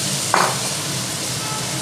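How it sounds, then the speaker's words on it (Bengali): Crabs hit hot oil with a brief sizzling splash, then a steady low frying hiss continues in the background. "দেখুন তেলের মধ্যে কাঁকড়াগুলো দেওয়া হচ্ছে, ভাজা হবে।"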